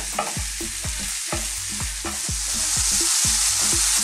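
Mushrooms fry in a hot pan over rising heat, tossed again and again: a steady loud sizzle is broken by rhythmic clattering knocks and scrapes roughly every half second, with no voices.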